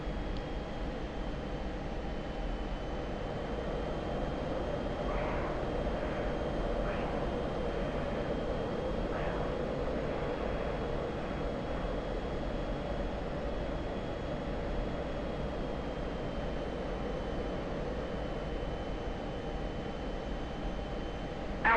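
Steady, roaring broadband rush of an F-16 Viper jet engine at full afterburner during airshow practice, constant and loud throughout with a faint thin tone and a few soft transient blips.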